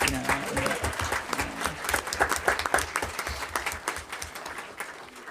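An audience at a school board meeting breaks into a round of applause, a loud, ragged burst of many hands clapping that rises and falls, with a faint voice beneath it.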